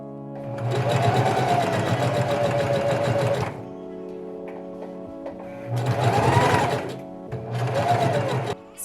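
A serger stitching the hem of a T-shirt dress runs in a steady whirring buzz for about three seconds, pauses, then gives two more shorter runs, close and loud.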